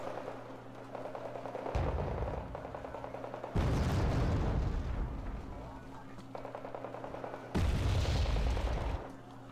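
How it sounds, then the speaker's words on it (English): Mortar fire pounds enemy commandos in a strategy video game tournament match, with several heavy booming bursts at irregular intervals over a steady game soundscape. "Oh, Mortar's putting some fire on those Commandos."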